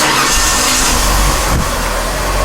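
A Ford Taurus engine runs loud and close, a rough steady mechanical roar with a brief surge partway through, heard alone with no talking.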